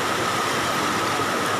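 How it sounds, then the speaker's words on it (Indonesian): The swollen Katingan River surges in flood at Kereng Pangi, Central Kalimantan, making a steady, loud broadband roar of rushing water, close and unbroken, with no voices. "Ini arus air dari Sungai"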